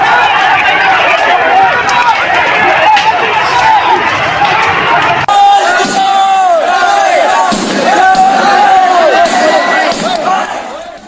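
Crowd of protesters out on the streets in a heated dispute over hijab, a dense roar of many shouting voices with rising calls and yells, loud and sustained throughout.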